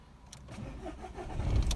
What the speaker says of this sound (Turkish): Aracı çalıştırdık.